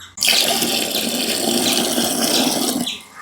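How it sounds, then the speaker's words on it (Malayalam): Water pours from a one-litre cup into a container while mixing a liquid plant feed, a steady gushing splash lasting about three seconds before tapering off. "നേരെ വെള്ളം ഒഴിച്ചേക്കാം"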